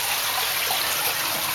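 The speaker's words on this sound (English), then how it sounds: "As you can see there, protein skimmer working pretty well." An aquarium protein skimmer running as water trickles and splashes, producing a steady, bright, hissing wash of sound that holds constant and close throughout.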